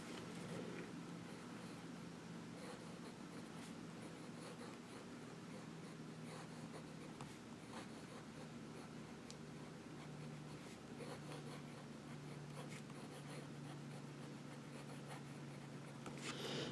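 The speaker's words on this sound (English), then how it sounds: "Let's try some reverse writing, see how that does." A Fuliwen 015 fountain pen, nib turned upside down, scratches across paper in a soft, continuous rasp with brief faint ticks, steady and close for over fifteen seconds.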